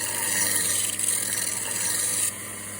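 A hand file rasps along the edges of a cast iron spatula to round them. Close, steady rubbing strokes run continuously, then stop abruptly near the end.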